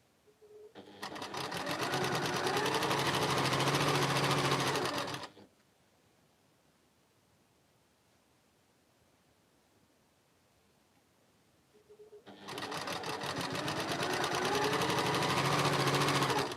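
Sewing machine running in two long continuous bursts while stitching quarter-inch quilt block seams, steady and close, with a quiet pause of several seconds between runs.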